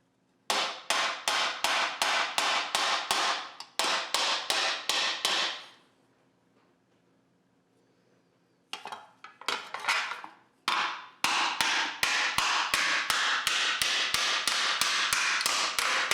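Aluminum sheet edge being hammered to drive out wrinkles, ringing as rapid, loud metallic blows in steady bursts, with a pause of near silence midway before the strikes resume.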